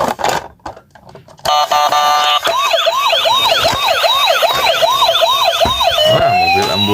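A toy ambulance car with lights wails its electronic siren, a loud, close, warbling two-tone sweep repeating steadily after a brief burst of clicks and rustle.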